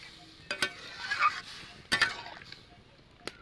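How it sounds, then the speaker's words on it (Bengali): Boiled mung dal is stirred in a pan, giving several sharp scraping clatters of a utensil against metal, with soft sizzling between strokes, up close. "একটু নাড়াচাড়া করে নেব"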